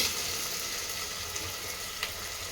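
Ginger garlic paste and finely chopped onion fry in a pan for plain biryani, making a soft, steady sizzle with a few faint clicks. The sound is fairly quiet and carries no voice over it.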